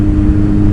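A Kawasaki ZX9R motorcycle engine held at high revs, a loud, close, steady mechanical roar with a strong low drone and no pauses, lasting under a second.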